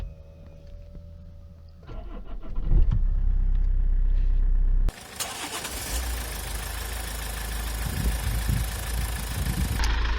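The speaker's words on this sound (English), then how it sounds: "So I'm going to leave the two vehicles ticking over now" Two cars run at idle side by side during a jump start from a dead battery, a steady rumbling engine drone that jumps in level partway through and continues unbroken, with no voices.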